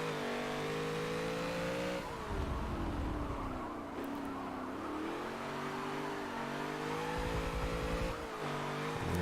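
A Model A Deuce Coupe in the racing game Forza Motorsport 7 drones at high revs, its engine pitch rising and falling through shifts and braking, with brief tire noise and no talk.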